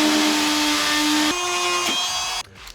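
A power tool cuts a plastic panel for a Miata dash install, a loud steady buzzing whine that steps down in pitch partway through, then cuts out abruptly near the end.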